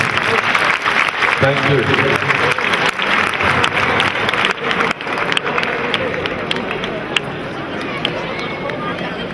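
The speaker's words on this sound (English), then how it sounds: "Can we have a bigger round of applause for everybody, please?" Loud, sustained applause from a convocation audience fills the hall, dense clapping that runs steadily and tapers slightly, with a brief spoken thanks heard over it.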